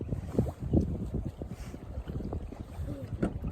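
Rowboat out near a marina on very windy water, with wind buffeting the microphone and irregular splashing and oar-like knocks close by, under a steady rushing background; someone talks briefly.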